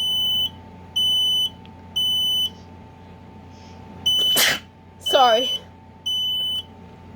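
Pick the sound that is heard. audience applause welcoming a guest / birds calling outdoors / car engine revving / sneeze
sneeze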